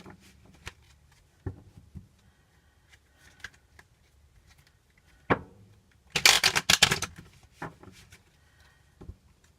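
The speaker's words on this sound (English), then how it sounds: "Spirit hasn't told me to stop shuffling yet." A quick burst of tarot card shuffling, a riffle of rapid papery flicks, close and fairly loud after scattered quiet taps and handling noises.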